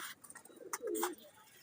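Pigeons on a rooftop give a single soft, low coo, faint and somewhat distant over light background noise.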